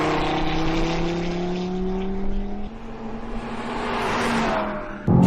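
A 2017 Audi TT RS coupe accelerating hard on a racetrack, its engine note climbing steadily through the gears with a brief shift drop, loud and close throughout.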